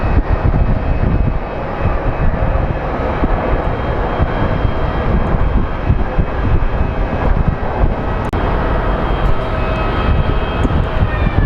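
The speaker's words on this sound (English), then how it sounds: "This is going to be an interesting landing" A plane lands at Phoenix Sky Harbor International Airport, its engines a loud, unbroken roar that holds steady and close throughout, with no voices.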